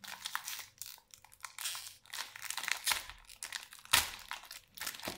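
Crinkly plastic wrapper of Oro Choc chocolate-topped biscuits being torn open, a close run of crackling crunches and rustles with one sharper rip near the end, no voice.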